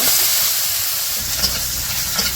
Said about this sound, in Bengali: কড়াইয়ের মধ্যে তেল দিয়ে পেঁয়াজ আর কাঁচামরিচ দিয়ে দিল।